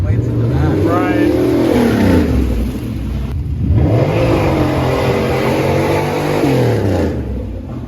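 A V8-powered Pontiac Fiero drives through snow, its engine revving up and easing off in repeated swells, fairly loud and close, with people talking over it.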